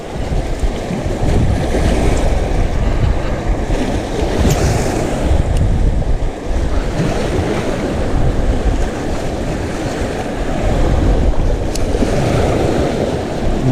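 Ocean waves roll and surge continuously at a fishing spot, a loud, broad wash of surf with wind buffeting the microphone throughout and no pause.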